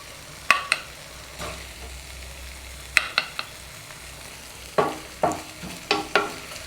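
Masala with salt is stirred in a frying pan for an egg pepper fry, with soft sizzling under a series of sharp spatula scrapes in irregular bursts, close, with no voices.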